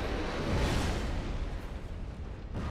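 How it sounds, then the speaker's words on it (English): Explosion in the video game Dark Souls 2 with a spell randomizer mod, a brief, fairly quiet burst of broadband rumble and whoosh that fades over a couple of seconds with no talk. "That's the sound of the explosion."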